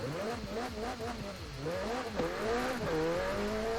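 A McLaren 570S is driven in Forza Horizon 4. The engine revs rise and fall repeatedly as gears shift, with rising tones climbing and dropping in a loud, close, continuous run.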